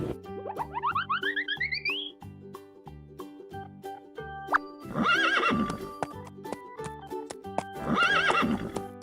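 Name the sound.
horse neighing and hooves clip-clopping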